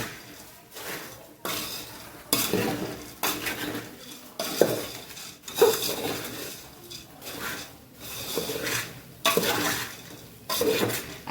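Puffed rice tossed with spices, mango powder and salt in a bowl, a garlic sev mamra snack: rhythmic, repeated scraping and clattering strokes of a spoon against the bowl, close and fairly loud.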